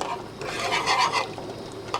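A whisk stirs cream cheese as it melts into Alfredo sauce in a pan, making a close, continuous scraping swish with a soft bubbling sizzle underneath.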